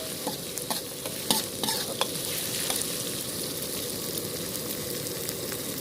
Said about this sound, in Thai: ผัดไปสักพักเลยนะคะ ผัดให้เครื่องแกงหอม ให้สุกเลยนะคะ